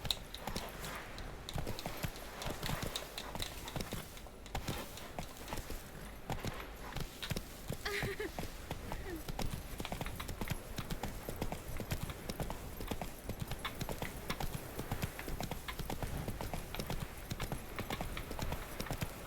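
Roach, Geralt's horse in the video game The Witcher 3: Wild Hunt, gallops with steady, rapid hoof clip-clops throughout, set in a dense game soundscape with a faint whinny.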